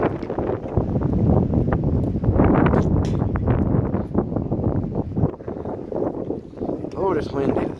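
Strong gusting wind buffets the microphone during an outdoor walk at a dirt diamond-hunting field in a state park, giving a loud, continuous rumble with bursts of louder gusts.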